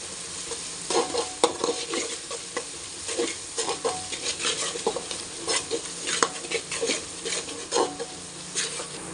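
Ginger paste for chicken pulao sizzles in a pan over high heat while a spoon stirs it in steady, repeated scraping strokes, close and fairly loud above a constant frying hiss, with no talking.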